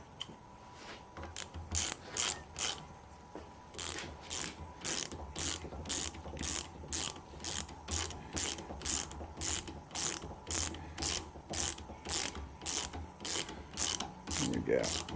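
Ratchet tightening bolts on a starter motor, a long run of quick rhythmic clicking strokes with short pauses, close and fairly quiet.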